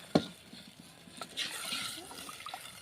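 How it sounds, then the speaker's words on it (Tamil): Tamarind water being poured into a fish curry, a soft liquid trickle and splash after a sharp knock, faint and close in a quiet kitchen. "இந்த புளி தண்ணியை வந்து சேர்த்துக்கலாம்"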